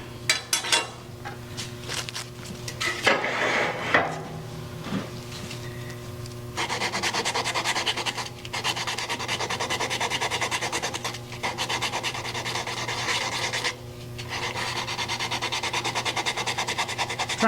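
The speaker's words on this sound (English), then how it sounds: "A little sandpaper." A turned wooden mallet sanded with sandpaper on the lathe, a steady broadband rubbing hiss that runs almost continuously, pausing briefly now and then.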